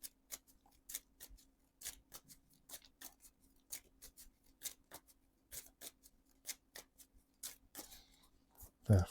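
A deck of playing cards being shuffled at a tabletop card game, with quiet, rapid papery ticks and flicks repeating in irregular bursts for several seconds, then a louder knock at the end.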